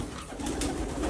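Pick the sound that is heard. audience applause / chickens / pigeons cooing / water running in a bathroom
pigeons cooing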